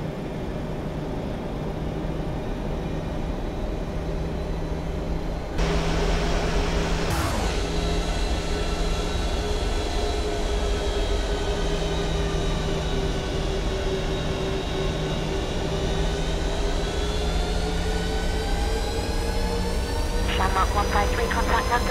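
Airliner jet engines spool up to takeoff thrust in a flight simulator on a Ryanair night flight: a loud, steady roar with whining tones that climb and hold, plus a brief surge partway through.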